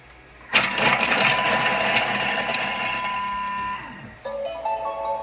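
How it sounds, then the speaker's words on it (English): A kitchen food processor whirs loudly as it chops onions for tomato soup, starting abruptly and running steadily for several seconds before slowing and changing to a lighter, higher motor whine near the end. "now it's telling me to turn this to 5, and it's going to chop the onions"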